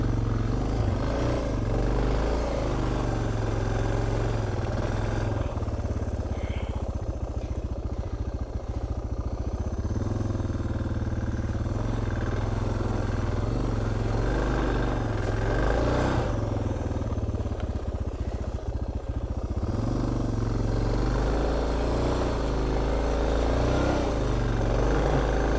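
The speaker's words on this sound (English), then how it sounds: "Digging the back tire down into a rut" A Suzuki DR650 motorcycle digging its rear tire into a muddy dirt rut, the engine droning and revving loudly and continuously up close, with surging throttle and clattering.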